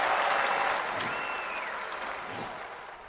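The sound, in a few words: crowd applause in London 2012 Olympic video game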